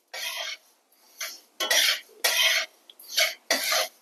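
Flax seeds and white sesame seeds are dry roasted together in a pan with a spatula, giving six or so distinct bursts of bright, gritty scraping and rustling separated by short near-silent pauses, close and clear.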